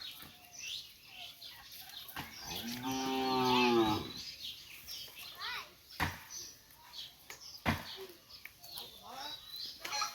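A cow lets out one long, loud moo near the start, amid scattered sharp clicks and knocks, with faint voices in the background.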